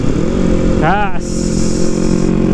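A Yamaha MT25 motorcycle engine revs up under the throttle, a rising harmonic sweep from a steady idle that climbs briefly and then settles, loud and close with a voice speaking over it.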